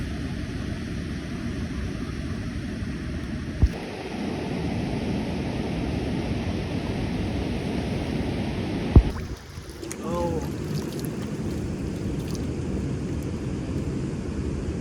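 A river flows by the Koka waterfall picnic spot in Karbi Anglong, a steady broad rush of water close by, broken by a couple of sharp knocks and some faint talk.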